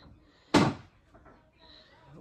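A single loud thump of a kitchen cabinet door closing during cabinet installation, sharp and close, followed by faint room noise and quiet movement.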